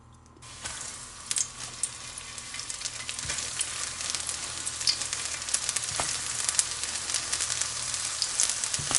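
Squash frying in hot oil, cooked the old-fashioned Southern way, gives a steady close crackling sizzle that builds slightly over the stretch, with scattered sharper pops and spits and no talking.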